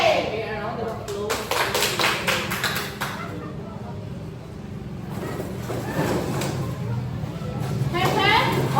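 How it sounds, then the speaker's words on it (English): Children in a classroom give a round of applause: bursts of scattered clapping come and go amid loud children's chatter and voices throughout. "Okay, a round of applause."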